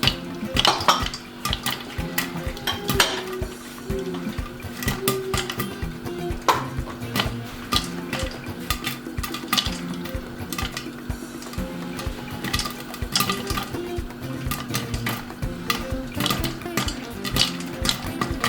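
Popcorn kernels pop in a pot, with dense, continuous clicks and ticks against metal, the pot rattling and scraping beneath them; no voice is heard.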